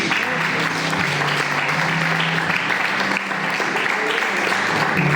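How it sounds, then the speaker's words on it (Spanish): A church congregation claps during a Spanish-language sermon, steady massed applause holding at an even level throughout, with a low sustained tone from music or the room underneath. "Dele un aplauso a Dios."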